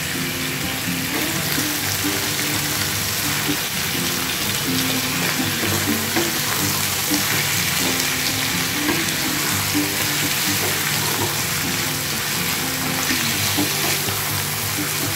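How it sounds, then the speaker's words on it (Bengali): Bottle gourd fries in a pan with turmeric powder and salt, a continuous sizzle with repeated stirring clatter and a faint background hum and clinks throughout. "এবার এটা একটু ভেজে নিচ্ছি।"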